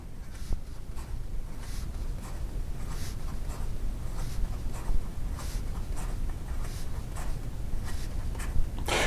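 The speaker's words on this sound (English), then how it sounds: "in regard to reverse writing, it is a little bit scratchy, but in regard to some fast writing" A Schon DSGN Copper Pocket Six fountain pen with a medium nib writing quickly on paper, close and clear, producing rapid repeated scratchy strokes in a brisk irregular rhythm with no talk.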